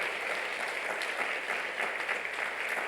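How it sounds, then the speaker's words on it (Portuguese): Church congregation applauding in praise during a Portuguese-language Bible class, a steady burst of many hands clapping at moderate level, alone without speech. "E glorifique a Deus com uma salva de palmas"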